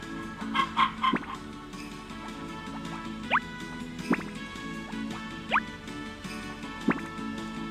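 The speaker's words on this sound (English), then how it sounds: "You stop it, chickens" Chickens clucking in the video game Harvest Moon Back to Nature, short sharp clucks that come every second or so over a steady background music bed, with no voices.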